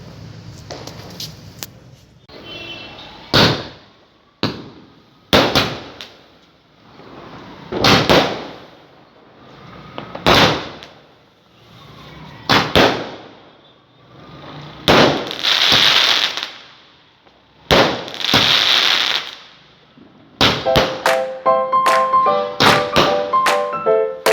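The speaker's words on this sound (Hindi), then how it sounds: "देखिए बच्चों की आतिशबाजी, इतने मोटे बम" Children's fireworks and firecrackers bursting at a Diwali celebration, a string of sharp, loud blasts spaced a second or two apart, some with longer hissing crackle, ending in a rapid cluster of bangs over a faint tonal sound.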